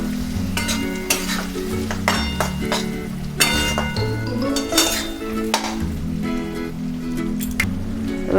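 Chopped tomatoes and green chillies frying in spice paste for a Bengali Bombay duck curry, loud close sizzling with rhythmic stirring scrapes and metallic clinks of a utensil against the pan.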